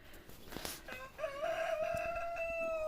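Roosters crowing at a village farmyard on a frosty winter day, a long drawn-out crow rising and holding steady, near and clear, with some faint clucks and rustling before it.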